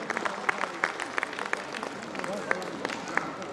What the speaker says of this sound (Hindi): आदित्य तंवर, जोरदार ताली बजाकर इस स्टूडेंट का स्वागत करें